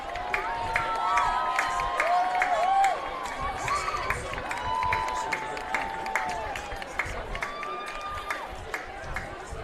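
At a high school football game, a crowd applauds and cheers the 2025 cheer seniors. Steady clapping and scattered shouts carry across the stands while a voice talks over the noise.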